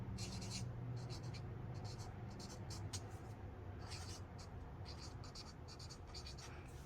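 Close, scratchy strokes of a Spectrum Noir marker in burnt sienna moving across paper, coming in quick repeated bursts over a low background hum.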